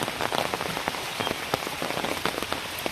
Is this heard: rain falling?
yes